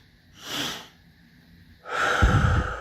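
Two quick, sharp breaths drawn in through the nose, close and loud, the first a brief sniff and the second a stronger, fuller intake after a short pause.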